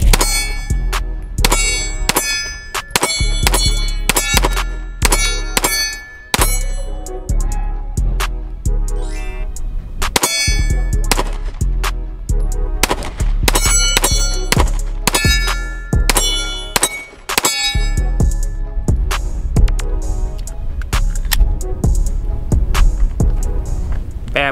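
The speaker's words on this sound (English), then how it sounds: "I gotta get some more shots out of this thing" A ported Glock 43x pistol loaded from a 15-round Shield Arms magazine fires a long string of sharp, loud shots in irregular bursts, close by, each report ringing with a metallic clang and no talk over it.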